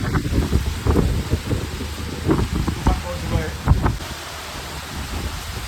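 Steady monsoon rain pours down while gusty storm wind roars across the microphone, with scattered thumps and rattles in the storm.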